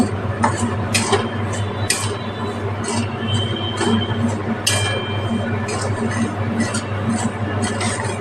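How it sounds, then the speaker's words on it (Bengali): Dry semolina, about one and a half cups, stirred in a kadai over a gas flame for roasting. A steady scraping sounds with scattered light clinks of the spoon against the pan over a continuous low hum. "সুজিটা ভালোভাবে নাড়ব।"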